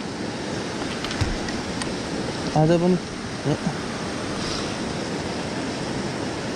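The flooded Rawa river in Khotang rushes in a continuous broad roar, loud and close, with a voice speaking briefly over the torrent.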